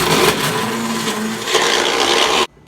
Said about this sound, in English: Plug in your blender.